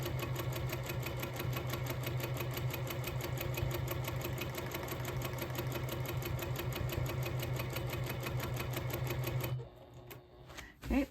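A sewing machine doing free-motion quilting runs in a fast, even rhythmic patter of needle strokes for about nine seconds, then stops and leaves near silence.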